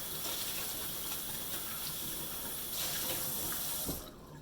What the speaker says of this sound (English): So now I'm going to rinse out my container real quick.